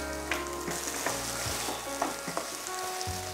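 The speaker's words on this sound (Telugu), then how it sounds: "స్టవ్ సిమ్లో ఉంచి 2 నిమిషాలు కలుపుతూ" Mint and coriander chutney being stirred in a pan over a low flame, a soft steady sizzle with a few scraping spoon strokes across the pan, close and fairly quiet, no voices.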